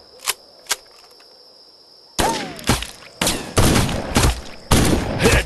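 Sniper rifle gunshots in the video game Sniper Arena: two sharp, isolated shots, a brief pause, then a run of louder, denser blasts close together.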